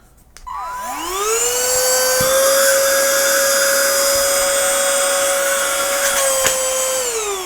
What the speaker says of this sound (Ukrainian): Ми беремо наш пилосос.